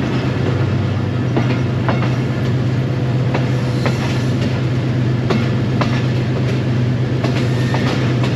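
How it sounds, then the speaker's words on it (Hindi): A passenger train rolls onto a loop line on a single-track Lahore–Rawalpindi route, with a steady rumble, a low hum and rhythmic clickety-clack of wheels over rail joints heard up close throughout. "लूप लाइन पे हमारी ट्रेन तो आ चुकी है"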